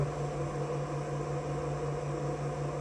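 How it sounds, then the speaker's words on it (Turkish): A coffee machine runs on power from an Uretech 600 W 12 V modified sine wave UPS inverter with battery charging, giving a steady, even electrical hum with a constant mid-pitched drone and no voices. "Kahve makinemiz çalışmaya başladı."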